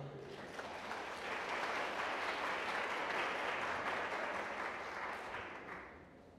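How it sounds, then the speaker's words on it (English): An audience at a morning session on child sex trafficking claps for itself, a sustained wash of many hands that swells through the middle and tapers off near the end, heard from a moderate distance. "I think y'all should give yourselves a round of applause."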